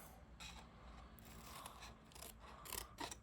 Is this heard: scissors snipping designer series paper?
yes